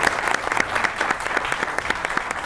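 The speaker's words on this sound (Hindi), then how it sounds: "चलो जी, बहुत सी ताली होनी चाहिए नूर भाई के लिए।" An audience claps steadily on a comedy talk show set, a brisk, fairly close round of applause with a clearly audible rhythm that keeps going without a break.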